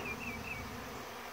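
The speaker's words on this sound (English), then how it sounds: "those bees will be thick as a cloud like this right here" Honey bees swarm around an open feeder, making a steady, dense buzz of many insects close by with no talking.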